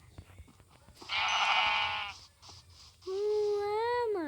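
Sheep in a Minecraft-style survival game bleat twice, a loud harmonic bleat followed after a short pause by a second rising, wavering one, over quiet background.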